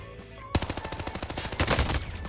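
Machine gun fire in the Plunder mode of a shooter game, a rapid sustained burst of closely spaced loud shots lasting about two seconds after a brief quiet start.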